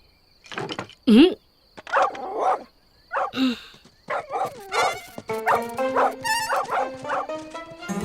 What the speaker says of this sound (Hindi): पागल डॉगी